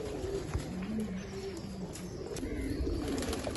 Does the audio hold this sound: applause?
no